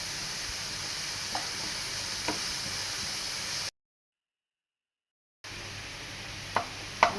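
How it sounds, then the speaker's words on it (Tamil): Chopped onions sauté in a pan with salt, browning under a soft, steady sizzle and hiss broken by occasional stirring clicks, with a short silent gap in the middle. "போட்டு கொஞ்சம் நல்லா ப்ரௌன் ஆகிற வரைக்கும் வதக்குங்க."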